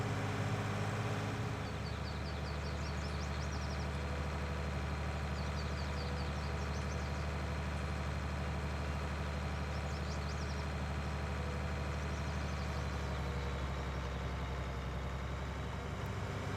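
Tractor engine idling in Farming Simulator 19, a steady low rumble with a constant hum that runs unbroken and fairly loud after a brief quieter start, with no voices.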